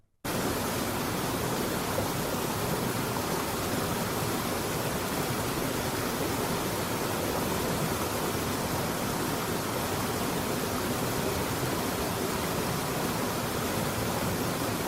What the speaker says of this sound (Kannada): ಕೇಳಿದ್ರಲ್ಲ ನೀರು ಹರಿಯುವ ಶಬ್ದವನ್ನು